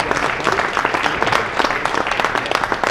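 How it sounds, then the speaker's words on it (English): Steady applause fills a school board of education meeting room, a crowd clapping briskly for honorees throughout the short stretch. "Let's give all of them a round of applause,"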